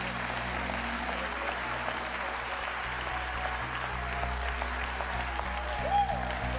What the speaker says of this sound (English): Clap those hands and give God one more praise.